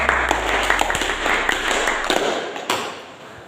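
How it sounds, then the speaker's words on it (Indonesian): A classroom of students claps for a group that has just presented, with a close, fairly loud flurry of uneven hand claps and taps over a low hum that cuts out partway through. "Kita kasih tepuk tangan dulu."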